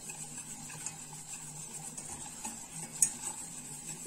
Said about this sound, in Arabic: هنقلب كويس زي ما انتم شايفين كده